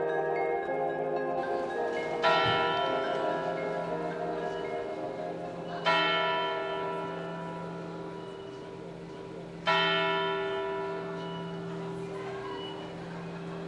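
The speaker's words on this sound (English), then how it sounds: "This is the Zeitglocke, a German word that means time bell." The Zeitglocke clock tower bell in Bern strikes three times at slow, even intervals, each deep resonant toll ringing out and fading into a long hum.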